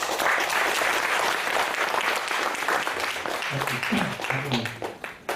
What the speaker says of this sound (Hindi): इनका तालियों से बजा के स्वागत करें